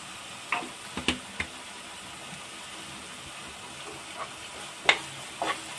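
Spices including turmeric crackle in hot oil in a pan while a veg burger filling is being cooked, giving a soft steady hiss with a few sharp pops scattered throughout and no talking.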